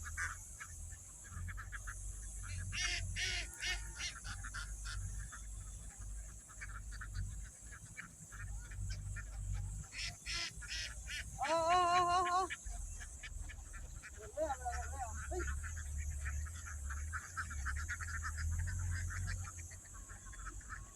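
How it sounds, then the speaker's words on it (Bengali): A flock of farmed ducks on a river quack in scattered bursts, some calls near and loud, with a low steady rumble underneath. "এই হাঁসগুলো"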